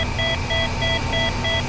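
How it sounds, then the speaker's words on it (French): A repeating electronic warning beeper in a helicopter cockpit in Flight Simulator 2004 sounds for engine overload, giving a steady series of short high beeps over a constant rotor and engine drone. "j'ai une alarme comme quoi qui me dit que je pousse mon moteur à fond"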